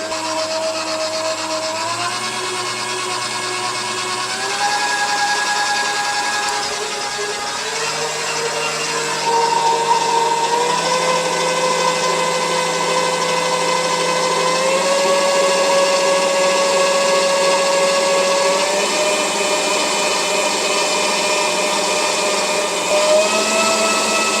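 A Korkmaz dough kneading machine runs at full speed with a loud, continuous motor whine whose pitch steps upward a few times as the speed rises, with no voices heard.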